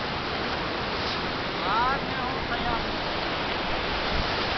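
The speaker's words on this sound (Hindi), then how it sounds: "अमर गंगा का पानी बहता हुआ" Amar Ganga river rushing down through the mountains, a loud, steady broadband roar of flowing water that fills the whole clip without a break.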